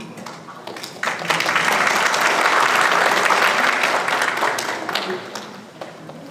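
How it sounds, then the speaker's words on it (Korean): An audience at an academic education research conference applauds to welcome a keynote speaker. The applause starts after a second, swells into a full, steady wall of clapping, then tapers off near the end. "교수님을 큰 박수로 맞이해 주시기 바랍니다"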